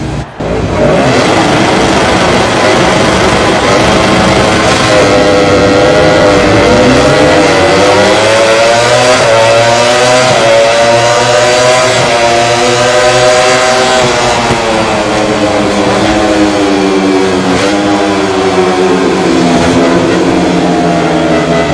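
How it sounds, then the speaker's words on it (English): MotoGP racing motorcycles, including Casey Stoner's 2009 Ducati Desmosedici, roar at the start of the Malaysian Grand Prix at Sepang, a loud sustained multi-engine howl rising and falling in pitch as the bikes accelerate. "Riders have completed their warm-up lap and are lined up on the Sepang grid,"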